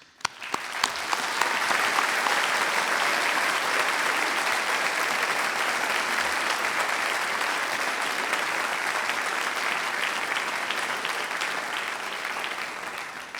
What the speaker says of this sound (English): give a round of applause to our graduates